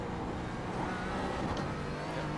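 A faster race car closes in and goes past during a Nürburgring 24-hour sim race, a steady loud engine drone that swells briefly, no talk.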